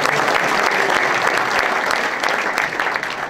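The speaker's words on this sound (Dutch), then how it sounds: "Applaus voor Henk Gijzers" Audience applause at a Dutch storytelling evening, a loud, dense, continuous clapping from a crowd that fills the room without letting up.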